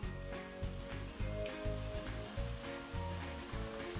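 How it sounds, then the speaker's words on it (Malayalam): Pakkavada, a spiced gram-flour snack, frying in hot oil in a home kitchen, a steady crackling sizzle with rhythmic low clatter and stirring bursts throughout. "ബാക്കിയുള്ളതും കൂടെ വറുത്ത് വരാം നമുക്ക്"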